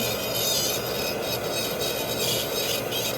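Grinding on a fake dental restoration wax-up: a continuous close rasping, rubbing hiss that pulses slightly in short strokes, steady and alone without talk.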